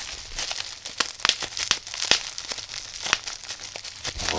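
Bubble wrap around a small Aliexpress watt meter package is handled up close, giving a steady crinkling rustle broken by sharp little pops and crackles, fairly loud and with no talking.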